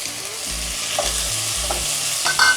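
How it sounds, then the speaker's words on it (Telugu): Onions and tomato pieces frying in a pan for kuska, a dense close sizzle with a few brisk stirring scrapes and soft clinks of the spatula. "ఇలా ఉల్లిపాయలు కొంచెం వేగిన తర్వాత ఇందులోకి టమోటా ముక్కలు యాడ్ చేసుకోవాలి"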